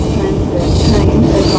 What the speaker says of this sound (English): Midland bound train coming in.